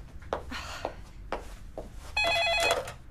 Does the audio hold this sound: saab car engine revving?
no